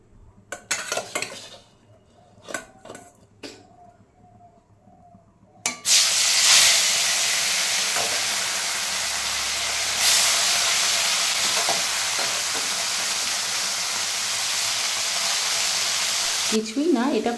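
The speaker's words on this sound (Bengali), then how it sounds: "তেল গরম হয়ে গেছে, এবার মাছটা ছেড়ে দিই" Small bele fish are dropped into hot oil: a few clinks and kitchen knocks, then a loud, steady sizzle and hiss of frying that carries on close by until the end.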